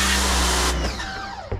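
A pressure washer blasts grime off a wooden deck, a loud steady broadband hiss for most of the moment, then dropping to a quieter spray with a short burst near the end.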